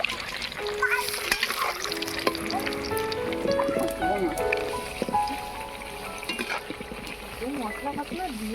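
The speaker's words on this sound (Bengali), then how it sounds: "এবারে বোমাগুলো ভেজে নেব।" Cabbage fritters (bora) deep-frying in plenty of white oil give a steady crackling sizzle throughout, with background music running alongside.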